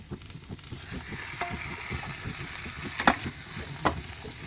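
Onion and curry leaves fry in hot oil for chicken sukka, a soft steady crackling sizzle with repeated light stirring scrapes and a couple of sharper clicks.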